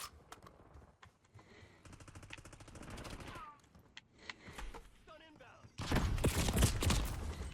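Shots from the FFAR rifle in Black Ops 6 rattle off in quick bursts amid game effects and a voice talking, with a dense loud burst of automatic fire at the end.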